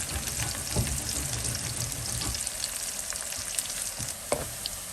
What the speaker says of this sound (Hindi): पौना कप ऑयल में हमने 2 प्याज जूलियन किए हुए थे उन्हें शामिल कर दिया और उसे फ्राई कर रहे हैं हम।